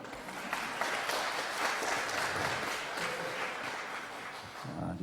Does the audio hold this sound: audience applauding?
yes